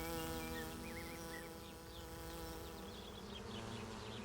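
A honeybee swarm gives a dense, steady buzzing drone of many wings, continuous and fairly quiet, with no other sounds.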